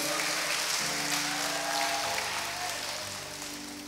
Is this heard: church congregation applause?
yes